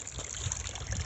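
A rain-swollen creek trickles and babbles steadily around a hiker wading through it, a soft, close, continuous flow with a faint splash near the end.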